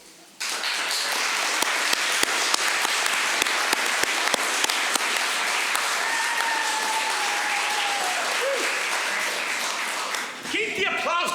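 A crowd applauds at an awards ceremony, with sustained, dense clapping that starts abruptly, holds steady and loud, then thins out near the end as voices come through.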